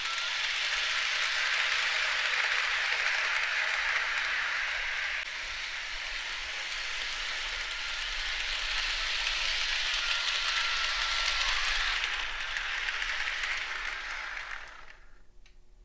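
A small HO scale model train runs steadily with a continuous whirring rumble and clicking track noise, close by, then fades toward the end.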